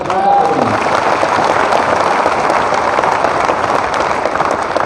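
An audience at a business seminar claps together in a dense, steady burst of applause that stays loud and close for the whole stretch, without pause.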